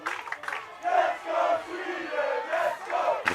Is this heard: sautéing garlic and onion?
no